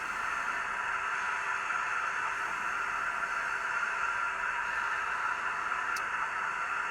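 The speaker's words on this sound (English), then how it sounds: "Function 7 provides a blower sound." Blower sound from a Bachmann Fowler 7F model steam locomotive sound decoder, a steady, even hiss of rushing steam that holds constant throughout with no breaks.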